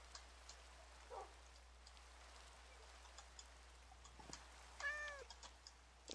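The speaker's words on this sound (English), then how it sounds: "caught a cat." A cat in the Minecraft game lets out a couple of short meows, followed by a longer wavering meow, over a faint pattering of rain, with no talking.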